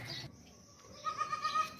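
A goat bleats at a livestock market, a brief wavering cry rising clearly over soft background murmur after a quieter opening.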